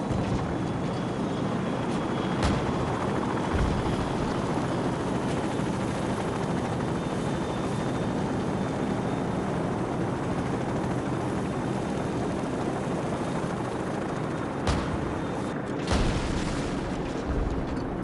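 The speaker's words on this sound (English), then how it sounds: "Crew, be advised, friendly helicopters entering the area." Military helicopters in the Call of Duty 4: Modern Warfare game, a steady loud rotor thrum throughout, with scattered gunfire bursts and heavy impacts.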